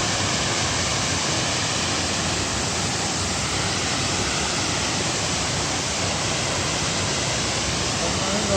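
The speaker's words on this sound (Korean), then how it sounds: "제2폭포에 도착을 하였습니다." A steady, loud roar of falling water fills the whole stretch, broad and unbroken, from the close second waterfall of Cheonjeyeon Falls in Seogwipo, Jeju.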